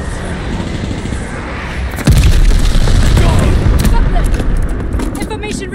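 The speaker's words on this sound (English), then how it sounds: "Teammate called a bombing run" A bombing run strikes in the multiplayer video game Call of Duty Vanguard. A sudden loud boom opens a sustained rumbling barrage of explosions that slowly fades, with no talk.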